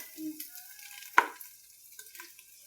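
Beef and mushrooms frying in a pan while being stirred, with soft scraping and a faint sizzle and one sharp utensil clack against the pan near the middle.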